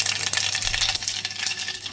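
Curry leaves hit hot oil with mustard seeds, a loud, dense crackling sizzle that stays close and continuous with no voices over it.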